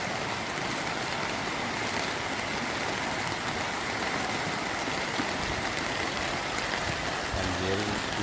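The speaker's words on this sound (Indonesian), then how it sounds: "banjir. Lumayan deras di sini." Heavy flood water rushes through the town of Lahat in a loud, steady broadband roar that holds constant throughout.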